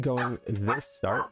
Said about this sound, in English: sorry, that's my dog. She likes to bark at random noises